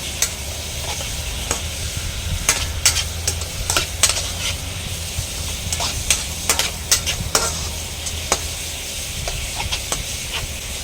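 Pork with holy basil stir-fried in a pan for a Thai kaphrao dish: a steady loud sizzle and hiss with repeated sharp scrapes and clanks of the spatula against the pan, no talking.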